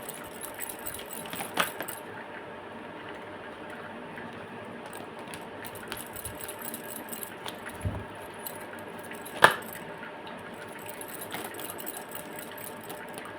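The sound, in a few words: shuffling tarot cards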